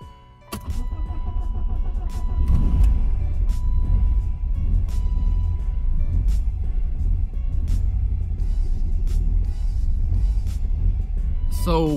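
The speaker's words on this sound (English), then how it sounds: "So when I cranked it up, I was happy that it cranked" A BMW E36 with an M42 engine cranks and turns over, a loud continuous rumbling churn with a faint whine, and some talk over it.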